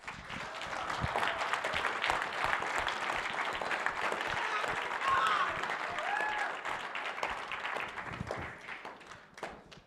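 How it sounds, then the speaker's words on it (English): Audience applause for award winners at an auto skills challenge ceremony, a dense sustained clapping from a sizeable crowd that holds strong and then tapers off toward the end, with a few faint voices mixed in. "we give these winners one more round of applause?"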